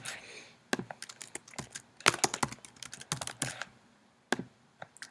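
Answers being typed on a computer keyboard into an online form: irregular bursts of close, crisp key clicks with short pauses between runs, no talking.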